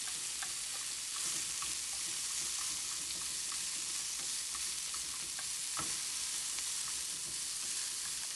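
Vegetables, including nopal-like boca, fry and get stirred in a pan with a steady broadband sizzle and scattered scraping clicks of a utensil, close and continuous with no talking.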